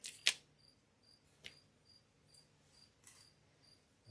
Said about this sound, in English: those crickets are loud.